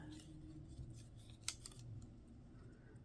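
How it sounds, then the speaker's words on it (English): Scissors snip through paper card while a pressed flower specimen card is trimmed, a few quiet crisp cuts clustered around the middle with one sharper snip, close and otherwise hushed. "Let's cut some of this off the top."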